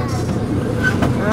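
Rumbling, rattling drone of a small zoo train moving along, with a brief squeal of wheels, heard from on board.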